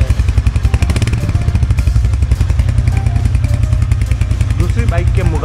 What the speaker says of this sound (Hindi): और बाइक का साउंड कुछ इस तरह से है।